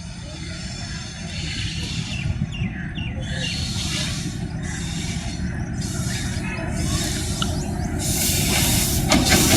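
The Farid Express passenger train approaches Liaquatpur railway station, a broad rumbling and hissing roar that builds steadily louder, with bursts of higher rushing noise and birds faintly audible.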